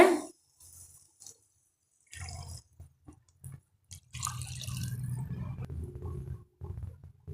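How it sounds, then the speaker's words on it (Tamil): Water poured and splashing into a hot pan with bubbling and sputtering, starting in short spurts then a longer steady pour nearby. "இப்போ நாம் தண்ணி சேர்த்துடலாங்க"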